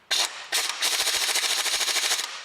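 Pneumatic air impact gun hammering at a seized, spinning track rod end on a 2008 Ford Mondeo, a short opening burst followed by a longer rapid rattling run, loud and close in a garage.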